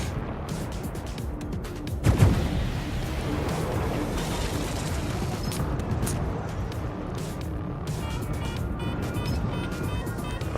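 Torpedoes launch in the space combat game World of Spaceships with a heavy thump, followed by a continuous rumbling engine drone and scattered crackling effects that fill the rest of the stretch.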